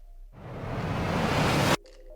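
A whooshing noise transition effect for video editing rises steadily over about a second and a half, swelling louder before cutting off abruptly into near silence.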